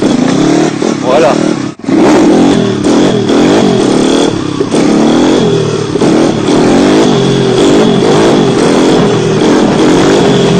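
A motorcycle engine revs loudly and close, rising and falling in pitch, with a brief cut-out early on and voices faintly mixed in.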